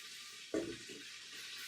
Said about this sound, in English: Now we're gonna stir in our tomatoes right here.